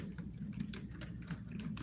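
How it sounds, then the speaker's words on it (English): Quiet, irregular key clicks from typing on a computer keyboard run steadily over a low background hum, faint and close. "I don't have my fingers lined up on the keyboard, so I'm spelling everything wrong."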